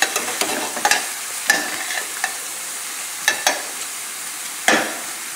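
Halved garlic cloves and pork sizzling in a frying pan, with a steady faint sizzle and several sharp scraping stirs of a utensil against the pan, close and alone.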